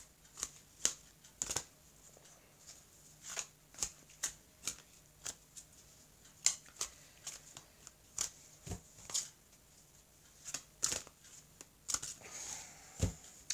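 Tree of Life oracle cards being shuffled by hand, close up and alone, with a steady run of quick papery riffles and taps that continues without pause.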